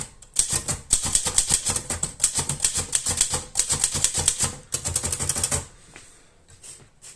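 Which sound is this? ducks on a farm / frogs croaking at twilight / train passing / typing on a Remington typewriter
typing on a Remington typewriter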